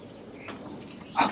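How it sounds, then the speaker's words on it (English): A Rottweiler gives one short, sharp bark close by near the end, after a quiet stretch with faint background noise. "This dog start barking."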